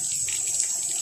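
Water splashes and streams steadily onto small young banana plants outdoors, a continuous close hissing pour with no talk over it.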